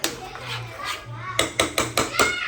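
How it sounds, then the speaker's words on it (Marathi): Clattering dishes and pots being handled and washed, with several sharp clanks in quick succession toward the end over a low background hum. "एके साईडला भांडी घासून घेते मी"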